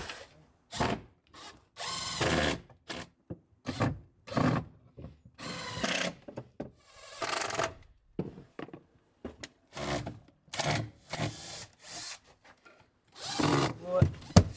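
Screws driven into a wooden panel inside a van being fitted with a wardrobe, heard as repeated short bursts of a power driver with gaps between them, fairly close and loud.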